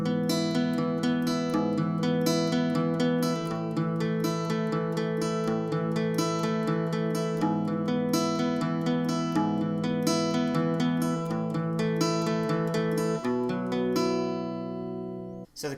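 Acoustic guitar strums a steady chord progression, the pre-chorus of a song, ringing full and close for about fifteen seconds before the final chord fades out.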